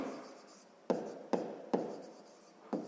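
A pen writes out a sixth-grade maths solution by hand on paper: a few sharp stroke onsets, each trailing into a soft scratching rub, close and quiet, no voice.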